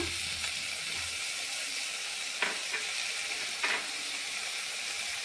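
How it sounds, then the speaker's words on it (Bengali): Onion paste frying in a kadai after sliced onions have been browned, a steady close sizzle with a few brief stirring scrapes and louder bursts, no talking. "এবার তাতে দিয়ে দিচ্ছি পেঁয়াজ বাটা"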